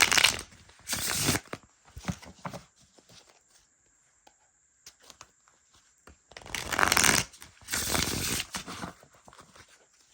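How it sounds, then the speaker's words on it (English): Close-up riffle shuffling of a Golden Age Tarot 1909 deck on quality cardstock, in two bursts of crisp, fluttering card sounds separated by a quiet stretch with faint taps. "listening to someone shuffle cards"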